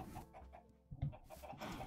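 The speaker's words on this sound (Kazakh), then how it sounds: "Тауықтар бар." A few short Minecraft chicken clucks, soft and close, with a brief louder cluck midway, over quiet background.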